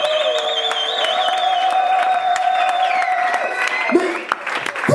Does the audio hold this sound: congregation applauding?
yes